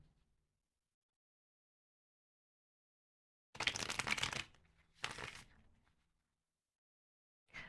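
A deck of tarot cards is shuffled in two short, close bursts of riffling, followed by a brief pause and the start of another shuffle, with silence before and between.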